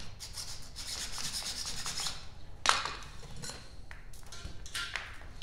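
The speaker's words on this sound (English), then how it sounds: "we'll see if we can knock the burrs off it" Steady scraping rasp of a small file taking burrs off a metal tube, continuous and fairly close, with a sharp metallic tap partway through.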